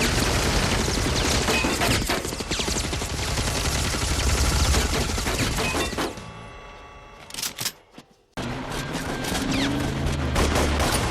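Dense, loud gunfire from the Desperado shootout scene rattles continuously in rapid volleys, then cuts to a brief near-silence with a few isolated cracks before the shooting resumes.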